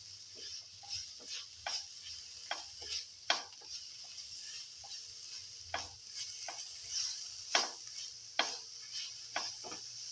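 Chicken, green chili and tomato pilaf sautéing in a pan, with a soft steady sizzle under repeated scrapes and taps of a spoon stirring against the pan, close and fairly quiet.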